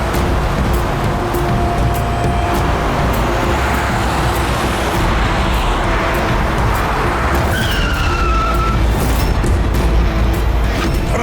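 Car tires skid under steady loud road and traffic noise, with a brief high screech rising near the end of a continuous vehicle roar during a tense chase.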